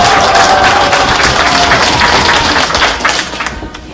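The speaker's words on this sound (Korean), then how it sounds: "큰 박수 부탁드리겠습니다." An audience at a political party's Incheon election campaign launch ceremony applauds steadily and loudly throughout, the dense clapping thinning slightly near the end.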